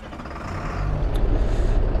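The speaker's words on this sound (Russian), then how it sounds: "Давайте включать двигатель" BMC Fatih truck engine in Euro Truck Simulator 2 starting up, a loud low rumble building into a steady deep idle.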